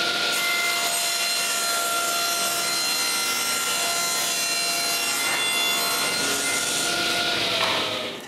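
A saw cutting plywood test pieces in a woodworking shop, one loud, continuous, even whine of the blade biting through wood from start to finish, close up.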